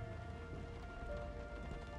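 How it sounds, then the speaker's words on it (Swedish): Rain falls steadily outside, a soft, even patter at low volume throughout a short stretch, with a faint hum underneath. "Alltså det regnar ju ganska mycket ute."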